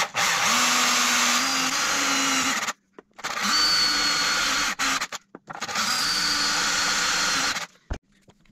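A power drill with a masonry-type bit bores through ceramic tile in three long, loud bursts of steady whirring grind, separated by short pauses, close up with no talk.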